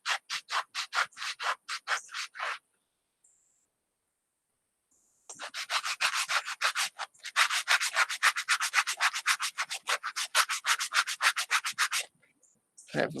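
Worn sandpaper rubs over wood by hand in a backyard woodworking session, quick rhythmic back-and-forth strokes, a short run, a pause of near silence, then a longer steady run of close scratchy passes.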